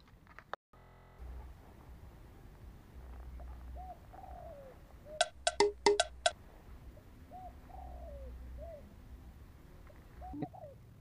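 Soft dove-like coos come from a bird at a hunting ground, several short low calls spaced across a quiet outdoor background. A brief cluster of sharp clicks breaks in midway.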